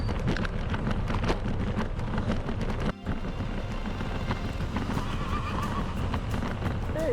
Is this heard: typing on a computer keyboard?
no